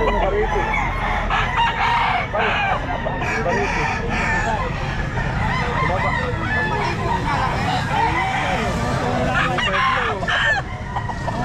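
Roosters crow repeatedly and hens cluck amid a busy Grotto pet market, with overlapping bird calls, crowd murmur and nearby voices filling the whole stretch.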